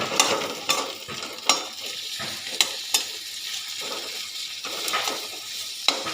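Chopped onions and green chillies fry in a pan for a fish curry gravy, a steady close sizzle broken by repeated sharp scrapes and clinks of a spatula stirring against the pan.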